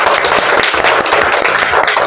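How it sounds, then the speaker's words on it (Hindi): A quiz show studio audience claps loudly and continuously for a contestant, giving a dense, even wash of applause with no gaps throughout. "जोरदार तालियां हो जाए प्रतीक के लिए।"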